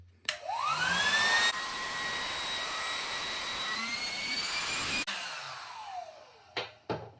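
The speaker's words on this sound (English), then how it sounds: "you can simply insert in this hole here and turn it on, and it will essentially suck out all the air" An electric air pump runs steadily while deflating an air bed mattress, a loud whining motor with rising pitch as it starts, then cutting off near the end followed by a couple of brief handling knocks.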